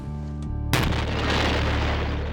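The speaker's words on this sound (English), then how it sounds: "There's the explosion." A homemade paint bomb blows up inside a room, a sudden loud boom cutting off a low hum and trailing into a sustained roaring rumble and hiss.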